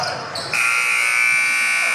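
Gymnasium buzzer sounding a long, loud, steady electronic tone at the end of a quarter in a high school boys varsity basketball game, starting abruptly after a brief moment of arena noise.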